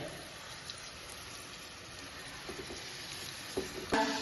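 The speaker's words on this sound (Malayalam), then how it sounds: "ഇതൊന്ന് ചിക്കൻ ഒന്ന് പൊരിഞ്ഞു വരട്ടെ" Chicken pieces frying in a pan on a gas stove for semiya biryani, a steady soft crackling sizzle throughout, with a few louder pops and spatters near the end.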